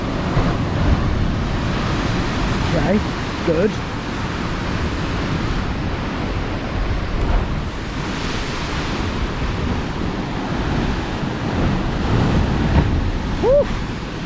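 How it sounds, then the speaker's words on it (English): Ocean surf rolling in at sunset on a New Zealand shore, a loud continuous wash of breaking waves with wind rumble on the microphone, and a brief spoken remark partway through. "there's more waves coming"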